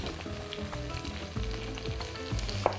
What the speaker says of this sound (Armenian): կտապակենք գլուխ սոխ, որ այժմ կնախապատրաստեմ։